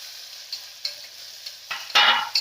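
Spices fry with chilli and turmeric powder for dal khichdi, a faint sizzle broken by quick spoon scrapes that build into a louder stirring burst near the end, with no talk.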